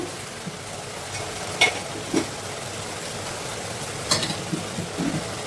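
A spoon stirs brinjal and tomato frying in a pan, giving a soft steady sizzle with a few sharp scrapes and clinks against the metal, no voices present.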